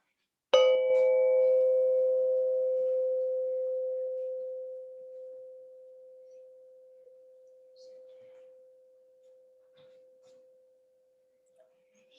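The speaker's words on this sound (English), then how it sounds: "So start with the sound of the bell and stay with it as long as you can." A single bell rung for mindfulness practice gives one clear metallic strike, then a pure ringing tone that fades slowly over about ten seconds into near silence.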